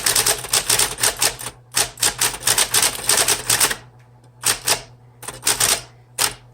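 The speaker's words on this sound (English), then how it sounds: "I apologize for my typing." Someone types on a 1970s Smith Corona Deville typewriter, loud close keystrokes clattering in fast irregular runs, with short pauses between flurries.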